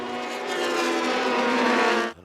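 Prototype race cars roar hard under acceleration on a restart at the SCCA Runoffs, a loud, sustained engine howl rising steadily in pitch, close and unbroken until a sharp cutoff at the end.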